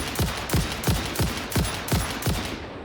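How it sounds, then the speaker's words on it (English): Rapid sniper-style gunfire in the Satisfactory video game, about seven evenly spaced sharp shots roughly every half second, loud and close with no talking over them. "Oh, talk about some good shooting."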